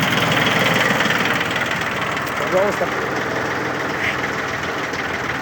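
A Yanmar F13D 13 hp Japanese tractor engine drives a rotary soil tiller at full throttle, a steady loud dense rumble with a brief voice partway through.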